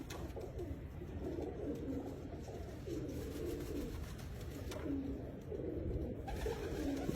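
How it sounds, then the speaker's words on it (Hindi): Pigeons coo softly in a loft in Lahore, giving low, rolling, repeated calls at a steady rhythm, fairly close but quiet over a faint background hum. "अब ये कबूतर भी देखें आप"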